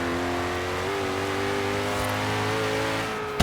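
Koenigsegg Regera engine in Forza Horizon 3, a steady rising drone of acceleration with one gear change, close and continuous without talk.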